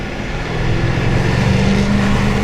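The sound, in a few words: Jaguar F-Type R P575 engine revving under acceleration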